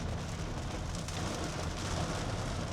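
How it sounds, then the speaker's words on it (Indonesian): Heavy rain drums on a 2023 all new Xenia 1.5 R CVT car in Surabaya, a dense, steady hiss of drops on the body and glass, moderately faint and unbroken, with no voices. "sekarang sedang hujan deras-derasnya ini di Surabaya"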